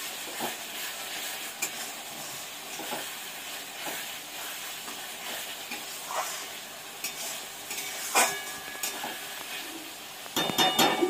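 Chicken and chopped tomato stir-fried in masala in a pan, with a steady close sizzle and scattered scraping stirs and clinks throughout, a few sharper metallic scrapes near the end.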